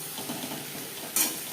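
Spices frying in oil in a pan for vegetable khichuri are stirred, giving a soft continuous sizzle with light scraping and one brief brighter clink of the spoon against the pan.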